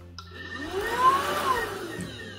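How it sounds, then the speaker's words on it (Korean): A Xiaomi cordless vacuum cleaner runs close by with a whining motor hum whose pitch rises and then settles, alone without talk. "청소기 상태는 이 샤오미의 무선 청소기인데요"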